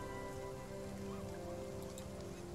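Steady rain in the video game Spiritfarer patters continuously with an even, soft hiss, with no other sounds standing out.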